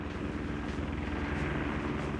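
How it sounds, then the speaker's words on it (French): Helicopters pass overhead at night, a low continuous rumble with faint rhythmic rotor throbbing at a steady, moderate level. "On entend les hélicoptères 4 fois par nuit."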